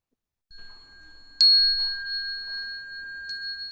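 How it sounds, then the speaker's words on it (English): Meditation bell rung before bows at a Buddhist lecture: two clear bright strikes with long ringing sustained tones, the first loud and the second softer near the end, in an otherwise quiet room. "So we're going to ring the bell 3 times"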